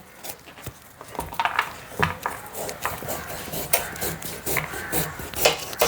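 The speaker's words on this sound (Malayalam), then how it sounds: "ചുരങ്ങയെല്ലാം നമ്മൾ അരിഞ്ഞു വെച്ചു. കനം കുറച്ച് തന്നെ അരിഞ്ഞു വെച്ചു കേട്ടോ." A knife slicing bottle gourd thinly on a board, giving a steady run of quick, close, crisp cuts with occasional sharper knocks, loud and continuous throughout.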